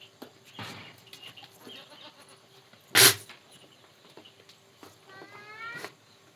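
A goat gives one wavering bleat near the end, after a sudden loud burst of noise midway, against a quiet background.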